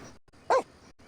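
A dog in The Sims 4 video game gives a single short bark or yip, close and clear, over a faint background hum.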